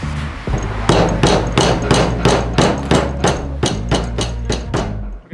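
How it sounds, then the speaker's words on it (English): A hammer strikes a part on a 1981 XR80 motorcycle during restoration, about a dozen sharp, ringing metal blows in a fairly steady rhythm, loud and close with nothing else heard. "Gonna have to break out the Andrew Carnegie hammer on this one."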